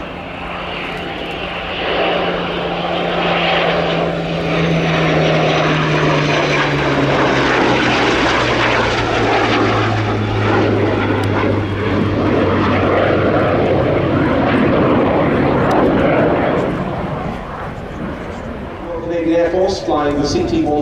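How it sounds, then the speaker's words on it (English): A Supermarine Spitfire flies alongside a CF-188 at an air show, a sustained loud engine roar whose pitch slowly falls as the aircraft pass, with a commentator talking over the noise. "those Spitfires included the very one that we see flying here with the CF-188"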